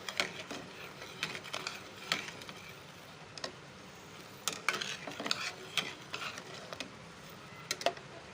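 A spoon stirs sugar into a strawberry ice cream mixture in a bowl, giving soft scraping and clinking strokes in an uneven rhythm, close and fairly quiet.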